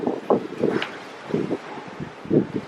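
Gusty wind buffets an outdoor microphone on a seaside trip in Cancun, Mexico, in uneven low rumbling bursts with brief lulls, no speech.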